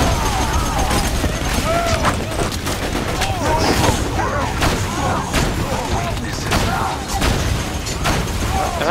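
Heavy, continuous firefight in Borderlands 2 with rapid shots, booming blasts and mechanical clatter layered densely and loud throughout, with voices talking over it.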